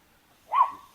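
A single short dog bark sounds at a farm property, one brief moderately loud yelp at mid distance against quiet surroundings.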